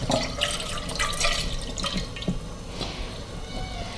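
Milk is poured into a cooking pan, producing a close, continuous liquid trickle and splashing with a few small drips, with no talking over it.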